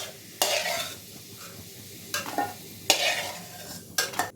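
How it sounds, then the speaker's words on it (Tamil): Garlic and tamarind sauté in a pan for urad dal tomato chutney: a soft continuous sizzle broken by a few loud scraping stirs of a spoon against the pan. "இப்போ பாதி அளவு பூண்டு வதங்கினதும் இதில் புளி சேர்த்துக்கிறேன்."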